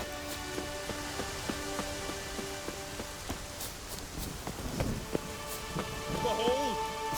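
Steady rain falls with occasional low thunder rumbles in The Witcher 3 game world, while a tonal musical drone and brief chimes play over it and a voice speaks briefly.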